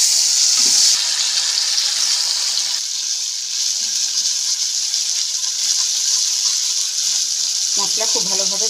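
A spice paste of onion, ginger, garlic and dried chillies sizzling in hot oil in a pan, a continuous bright frying hiss with a few soft clinks and stirring scrapes, loudest near the end.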